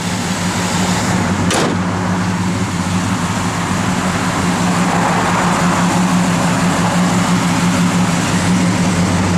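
A 1966 Chevrolet Chevelle SS convertible with a rebuilt engine, stock cams and upgraded heads runs steadily nearby, a deep low rumble holding even throughout with a brief sharp click early on.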